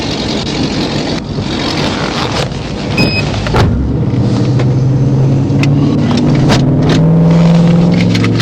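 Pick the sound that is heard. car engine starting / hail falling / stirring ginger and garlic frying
car engine starting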